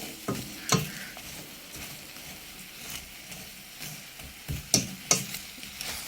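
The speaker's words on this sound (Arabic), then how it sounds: "انا هكرمل الدوم ده بالسكر اهو، خليه كده لغايه ما يكرمل السكر في الدوم" Doum fruit cooks with sugar in a pan as it caramelizes, giving a faint steady sizzle broken by several sharp scraping knocks of a spoon being stirred through it.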